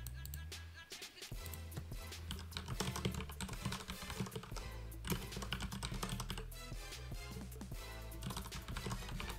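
Rapid, continuous keystrokes on a computer keyboard while code is entered, a close and fairly quiet clatter of irregular taps with no pauses for speech.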